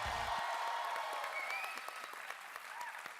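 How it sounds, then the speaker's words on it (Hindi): Studio audience applause on a Hindi comedy talk show set, a dense even wash of clapping at steady loudness that eases slightly toward the end, with no talk over it. "जोरदार तालियां हो जाए एक बार।"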